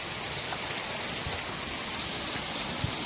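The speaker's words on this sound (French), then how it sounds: "il y a un orage fort là qui s'abat" Heavy thunderstorm rain with wind pours in a dense, continuous hiss, steady and enveloping with no voices.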